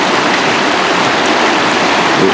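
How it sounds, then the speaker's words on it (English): A rain-swollen river rushes steadily, a dense, loud, continuous roar of flowing water with no break. "River's flowing a little bit harder."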